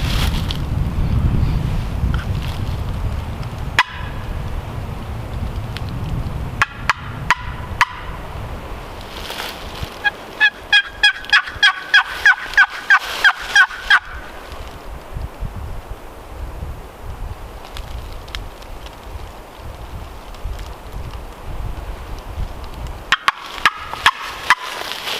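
A hunter imitates spring gobbler turkeys with a call outdoors, producing bursts of rapid rattling gobbles, including a long run of evenly spaced notes mid-clip, over steady wind noise.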